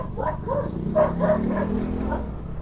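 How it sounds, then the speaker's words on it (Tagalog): A nearby dog yelps and barks in a rapid series of about six high, whiny barks, with a steady low engine-like rumble underneath. "grabe yung aso"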